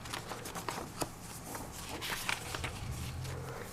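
Paper journaling cards for a beach-themed junk journal being handled and shuffled, giving soft rustling and light tapping clicks at close range, continuous but quiet.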